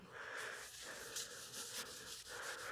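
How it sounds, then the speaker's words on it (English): A food-safe wood finish is rubbed by hand into a turned wooden cake stand, giving a soft, steady swishing friction close to the microphone, quiet and without speech. "Rub this in by hand."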